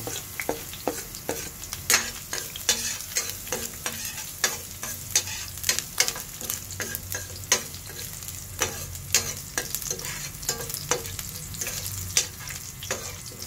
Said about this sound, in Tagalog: Yung mantika natin ay guys ay mainit na. So lagyan natin ng bawang.